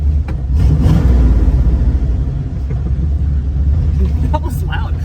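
Loud, deep car engine rumble at a car event, a heavy low throb swelling near the start and then holding steady close by, with people talking and shouting over it.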